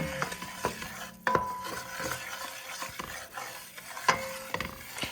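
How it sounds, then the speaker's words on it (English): A spoon stirs a bubbling roux over medium heat, with steady close scraping strokes, a few sharper clinks and a low, constant frying hiss underneath. "And you just keep stirring."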